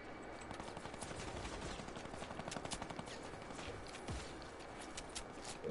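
Fortnite gunfire heard as a quick run of muffled shots at moderate distance over a steady background hiss, with a few isolated louder pops.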